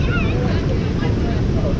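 Tahquamenon Falls rushes in a loud, steady, broadband roar close by, with wind buffeting the microphone and faint voices mixed into the wash.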